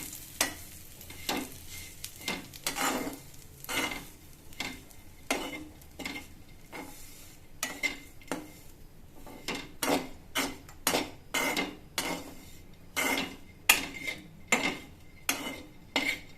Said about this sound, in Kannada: ಕೊಬ್ಬರಿ ಹಾಕ್ಕೊಂಡು ಫ್ರೈ ಮಾಡ್ತಾ ಇದ್ದೀನಿ